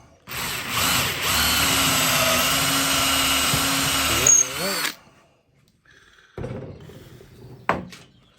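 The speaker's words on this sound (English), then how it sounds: "8mm drill bit" A power drill with an 8mm bit whirs loudly and steadily for several seconds, strains briefly, then stops, followed by a few quieter knocks and clunks.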